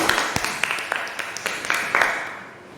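Church congregation clapping together to welcome the Lord before a scripture reading, a short, scattered round of applause that starts fairly loud and fades out within three seconds.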